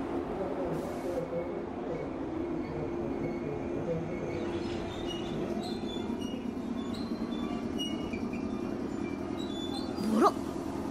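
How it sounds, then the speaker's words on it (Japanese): An old Japanese National Railways electric train rumbles past with wheels squealing, a steady low rolling noise and one sharp rising squeal near the end, while a dog barks faintly in the background. "国鉄から古い電車をもらったんだって"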